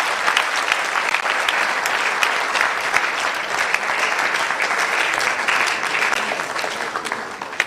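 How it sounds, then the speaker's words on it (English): Sustained, energetic applause from a large audience for a guest of honor at a national science and maths quiz launch and balloting event, dense clapping holding steady throughout with occasional cheers. "Please give him a round of applause."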